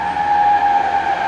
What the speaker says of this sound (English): These trucks are so loud.